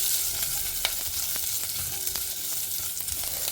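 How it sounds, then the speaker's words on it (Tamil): Black pepper, shallots and garlic frying in a pan, a continuous close hiss of oil with scattered small pops and crackles, no voices. "ஸோ மிளகு பொரிய ஆரம்பிக்கிறது."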